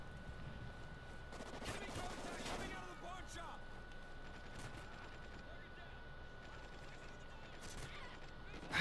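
Gunfire in Call of Duty Ghosts multiplayer, with a dense burst of rapid shots early on, then scattered reports over steady game noise and a constant tone, while a player talks over it.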